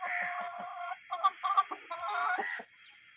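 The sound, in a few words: hen clucking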